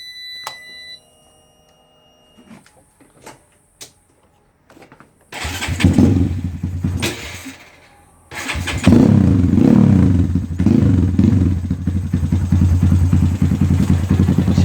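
A 2014 Honda Grom motorcycle engine starts after a few faint clicks and beeps, then settles into a loud, steady idle close by, with a second burst of revving that carries on to the end.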